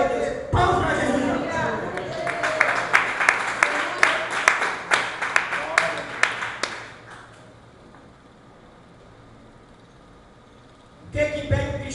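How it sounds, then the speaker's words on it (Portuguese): A church congregation claps for Jesus during a Portuguese-language sermon, a dense burst of hand claps with louder accented beats that fades into near-quiet before talk resumes at the end. "Palmas para Jesus."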